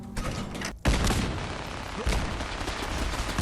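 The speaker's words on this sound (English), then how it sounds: "I'm hearing miniguns, I think" Minigun fire rattles through Fallout 4, a dense, continuous roar of rapid shots that swells after a short pause and keeps going, loud and without voices.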